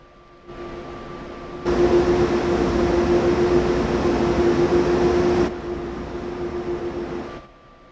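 A train in the Train Sim World 2 video game runs along a very long route, giving a steady, loud rumble with a sustained tonal hum that swells midway and then eases, with no talking.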